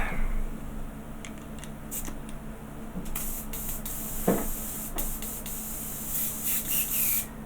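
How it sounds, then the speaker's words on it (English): An airbrush fed by an air hose sprays fluid in a quiet room, a steady soft hiss with short clicking bursts and airy puffs throughout. "airbrush is now fully working. Let's put a little bit of fluid in there"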